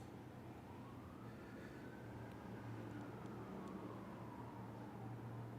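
A siren wails faintly in the distance, one slow rising and falling sweep drifting under a steady low background hum, with no talking.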